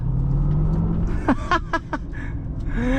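A GMC Hummer EV accelerates with a low, close rumble and road noise, while a few brief vocal sounds rise over it midway.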